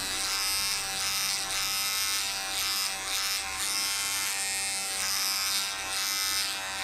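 An electric hair clipper cuts hair during a home haircut, giving off a continuous, close, steady buzz throughout with slight rises and dips in intensity.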